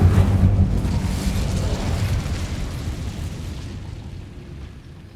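An Incendio fire spell bursts in the video game Hogwarts Legacy with a loud, close boom, followed by a roaring whoosh that slowly fades over several seconds.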